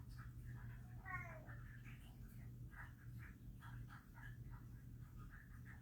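A pet cat lets out a short, wavering meow partway through, mixed in with steady nearby talking and a low background hum.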